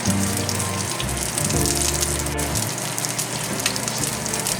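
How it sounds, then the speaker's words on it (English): Garlic, cumin, mustard and fenugreek seeds splutter and sizzle in hot oil with a continuous crackling fry and dense popping, close and steady, while a low tonal hum runs beneath. "When the seeds start to splutter"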